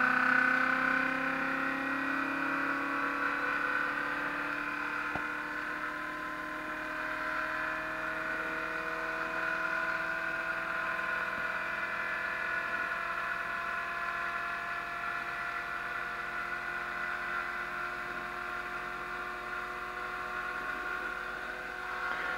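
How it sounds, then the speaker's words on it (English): A small electric motor runs at about 7 volts on a bench power supply, giving a steady whirring hum with faint tonal whine that holds constant throughout. "start the motor going. We're running at about 7 volts right now"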